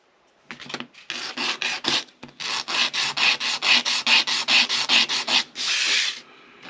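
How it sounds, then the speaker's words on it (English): Rapid back-and-forth rasping of coarse sandpaper on the wooden wheels of an Artesania Latina Stage Coach 1848 model, loud and close, in a steady rhythm of short strokes with a longer stroke near the end. "I'm just using a coarse sandpaper here to get them to length, sand them to length."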